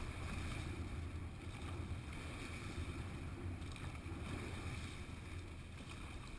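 Oars of a rowing church boat working against a headwind, with a low, steady rush of water and wind and faint rhythmic strokes under it, no voices.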